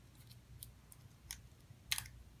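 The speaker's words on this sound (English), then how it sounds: "maybe I'll just snip that extra tape off right there" Scissors snip through extra tape on a cardboard paper-circuit project with a few faint, crisp cuts spaced apart, the last one sharper and louder, in a quiet room.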